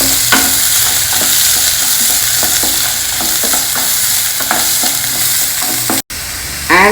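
Chopped onion hits hot oil with jeera, chana dal and green chilli, giving a loud, steady sizzle with scraping stirs through it and a brief cut near the end. There is no talking.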